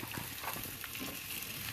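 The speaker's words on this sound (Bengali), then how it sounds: "কাঁচা লঙ্কা, পেঁয়াজ, এটাকে ভালো করে ভেজে নেবো" Green chilies and onion frying in mustard oil in a pan make a faint, continuous hiss with light crackles close by and no speech.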